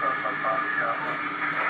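A QRP HA-90 transceiver, partly assembled, gives off a steady, even hiss of static that holds at a constant level with no pauses.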